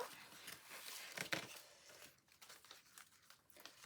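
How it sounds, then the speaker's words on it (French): Paper crinkles and rustles close by as small items are slipped into a paper envelope, with a sharper crackling burst near the middle, then softer handling noises trailing off. "Hop, on met tout ça dans l'enveloppe."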